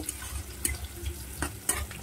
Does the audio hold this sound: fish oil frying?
yes